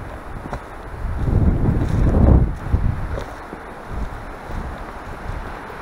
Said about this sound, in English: There is a breeze of wind now.